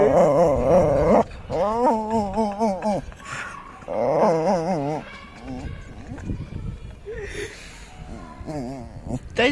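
A dog whines and yips in several high, wavering, drawn-out bursts, close by, with pauses and softer whimpers between them and occasional background voices.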